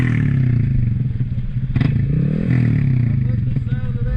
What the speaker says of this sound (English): That thing's got a good low rumble to it. Oh yeah, I got an aftermarket exhaust.